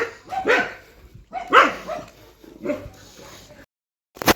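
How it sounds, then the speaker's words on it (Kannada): Neighbourhood dogs bark in short bursts, several loud yelping barks spaced about a second apart with some whimpering, followed by a sharp final yip after a brief pause. "ಎಲ್ಲ ಯಾಕೋ ಆಗ್ಲಿಂದ ಬೊಗಳ್ತವ್ರೆ"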